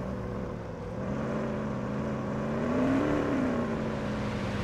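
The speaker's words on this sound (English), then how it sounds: "Oh my god, listen to that engine." Police car engine in Police Simulator: Patrol Officers, a steady close drone that swells into a brief rev around the middle, then settles back to idle, with no talk over it.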